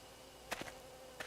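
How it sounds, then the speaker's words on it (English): Bees swarming by a shrine's torii gate in the horror game Spirit Hunter: Death Mark: faint, quiet insect buzzing with two brief, closer swells as bees pass. "Area by the Torii Gate is full of bees."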